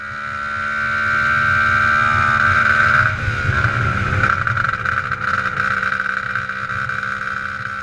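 Motorcycle-engined buggy with a motor not running perfectly, accelerating up to about 50 mph: a loud, close engine whine rising steadily in pitch, then settling into a rough, sustained high-RPM drone.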